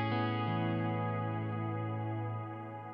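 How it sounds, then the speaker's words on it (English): Electric guitar played through a big reverb patch on a Neural DSP Nano Cortex, a sustained distorted chord ringing out with a long, smooth reverb tail that slowly fades, with no talking. "that big reverb patch that I have been playing kind of through the whole thing"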